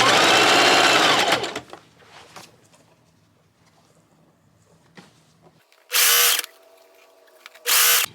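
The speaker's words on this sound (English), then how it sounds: "So I'm just doing a double fold hem here. Just kind of going all the way around." Sewing machine running a double fold hem on a red carpet dress: a rapid close mechanical whir in an opening burst, a quiet stretch with light handling, then two more short bursts of stitching.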